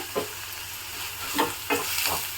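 Curry leaves fry in oil for an egg gravy, a soft crackling sizzle with a few quick stirring scrapes, fairly faint and close, no talking.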